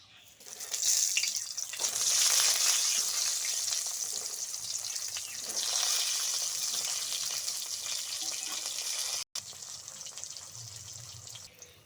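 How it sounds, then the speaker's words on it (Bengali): Eggplant slices frying in oil left over from frying tilapia, cooked in a rural village kitchen; a steady, fairly loud crackling sizzle runs throughout, with a brief dropout near the end. "মাছ ভাজা তেলে এবার আমি বেগুনগুলো ভেজে নেব।"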